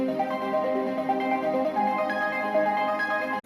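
A synthesizer plays a steady, bright Italo disco arpeggio, notes cycling evenly over a sustained tone, heard clearly with no voices.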